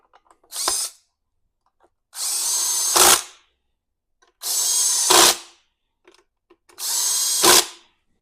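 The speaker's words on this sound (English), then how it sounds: "Now go ahead and reinstall the 3 screws to hold your recoil assembly on." Four short bursts from a power drill driving the three screws that hold the recoil starter assembly onto a Stihl BG 50 handheld leaf blower, each whir rising and cutting off, with brief clicks in between and no talking.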